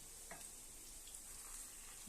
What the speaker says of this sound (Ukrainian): Зараз будемо дивитися як наші котлетки смажаться.